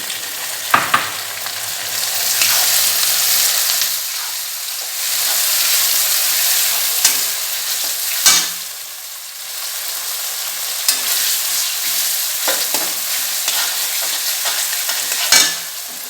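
Onions and tomato frying in a pan on high heat for dry chicken, a steady loud sizzle with several sharp scrapes and stirs of a spatula scattered through it.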